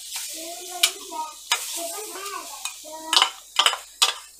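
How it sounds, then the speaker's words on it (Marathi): A dry ginger paste for alepak is stirred in a kadhai, with scattered sharp scraping clicks and a light sizzle under a voice that talks quietly at close range. "सर्वात पहिले मी ही पेस्ट कढईमध्ये टाकून घेतो"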